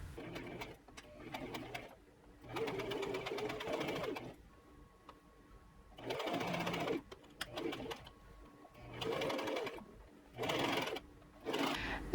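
Stitching along the hem of a cotton dress, a sewing machine runs in several separate bursts of a few seconds each, with short quiet gaps between them.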